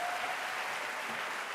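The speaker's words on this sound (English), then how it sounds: "So please give a round of applause to our orientation guides" A university welcome ceremony audience applauds its orientation guides, a steady, even roar of many hands clapping that holds constant through the short stretch.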